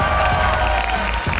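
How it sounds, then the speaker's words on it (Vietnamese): Studio audience of a Vietnamese children's quiz game show claps briefly, a short burst of mixed applause and crowd noise after an answer is given. "Vỗ tay!"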